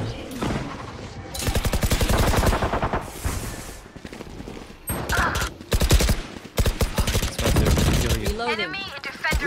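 Rapid bursts of gunfire in the tactical shooter Valorant on the Ascent map, loud and repeated in quick volleys, interleaved with game voice callouts and player talk.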